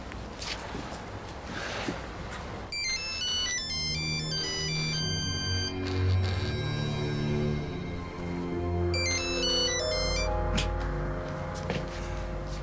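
A mobile phone rings repeatedly with a bright electronic ringtone in bursts, set over a rich musical background score, with no talking during the ringing.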